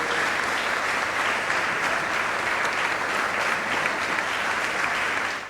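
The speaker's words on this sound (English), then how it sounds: "Please give a sound of applause." Loud, sustained applause from an audience fills a closing plenary session at Redeemer's University in Nigeria, holding steady for several seconds before cutting off.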